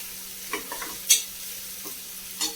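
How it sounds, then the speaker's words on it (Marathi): Tomatoes sautéing for mutton yakhni pulao, a low faint sizzle with a few sharp spoon scrapes and clinks against the pan, close and brief. "आता टॅमॅटो पण आपण चांगला मऊ पण परतून घेऊया पहिल्यांदा."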